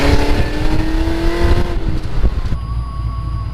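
A Pontiac GTO fitted with a ported 90mm throttle body accelerates hard in second gear from about 40 mph, its engine roaring loud and close with rising pitch, then easing off near the end.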